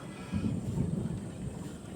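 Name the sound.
thunder rumbling in the sky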